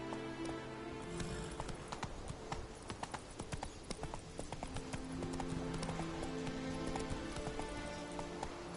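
Hooves clip-clop in quick rhythm as Roach the horse gallops in The Witcher 3: Wild Hunt. The hoofbeats are steady and fairly close but modest in level, with occasional neighs and ambient game sound underneath.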